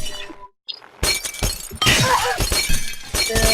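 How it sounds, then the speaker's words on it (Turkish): Glass shatters in the video game Happy Wheels, a burst of bright crashing and tinkling fragments after a brief silence, then more loud breaking and clattering debris, close and harsh. "Cam kırmaca."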